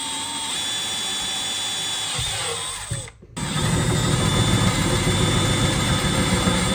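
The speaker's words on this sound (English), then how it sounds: "our spot that we're going to want to drill is right there" A steady, loud mechanical whine of a drill grinding continuously into a metal casting during an LS3 engine swap into a BRZ, briefly stopping for a moment before resuming with a rougher, heavier tone.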